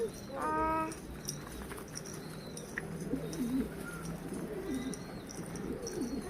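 Pigeons coo softly in a large loft of about seventy birds, low rolling coos repeating under occasional chirps and tweets, with a person nearby.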